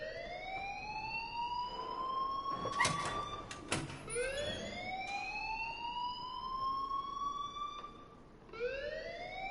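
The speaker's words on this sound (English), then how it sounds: "please turn off that alarm since that's your job" A fire alarm in the video game Life is Strange wails in repeated rising sweeps, fairly faint and steady, with a few brief clunks partway through and no talking.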